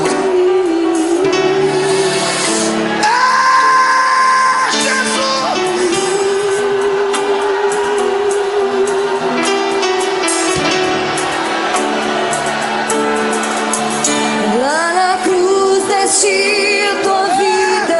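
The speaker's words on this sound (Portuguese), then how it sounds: "Até você que não gosta de dar barulhos tem que gritar agora." Church congregation shouting and crying out praise to God during an emotional service, a loud continuous wall of voices and music-like tones with swelling cries throughout.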